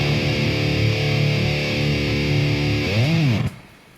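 An electric guitar tuned a whole step down plays through heavy distortion in metal style: sustained buzzing chords ring loud and close, then a bending note swoops before the sound cuts off.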